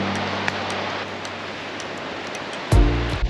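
Steady rushing white noise from England's tallest unbroken waterfall, constant and fairly distant, with a brief thump of wind or handling near the end.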